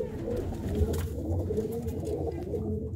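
A flock of pigeons kept by a breeder in Gurdaspur coos nearby, a constant rolling murmur of overlapping calls at even loudness throughout.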